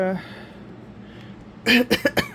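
A man coughing several times in quick succession, close and fairly loud, after a stretch of near-quiet with a brief trace of his voice at the start.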